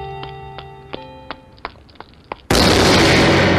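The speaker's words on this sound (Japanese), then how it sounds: "また爆発音のようなね、衝突を食らったね" In the video game Gakuen Handsome, a run of light chiming plinks gives way to a sudden, loud, explosion-like crash effect that roars on as a dense, sustained burst.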